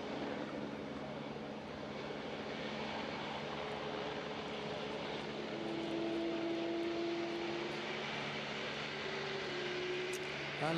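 An Airbus A350 XWB taxis after landing from its first flight, a steady, fairly distant engine roar and whine that holds for the whole stretch, with faint talk mixed in.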